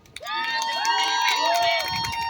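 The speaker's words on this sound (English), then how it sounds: "Please, another applause for Sergio." A crowd at an outdoor rally cheers and whoops loudly, with high excited voices rising and falling in a continuous roar for a couple of seconds.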